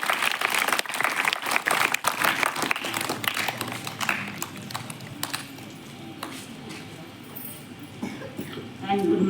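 An audience at a school Teacher's Day celebration breaks into dense, lively clapping that starts loud and gradually thins out, with voices murmuring through it.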